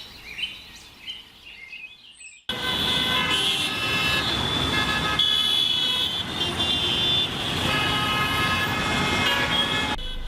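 A traffic jam, where after a brief quiet start a loud wall of road noise sets in, with tonal horn blasts and a siren-like wail layered over idling and passing vehicles.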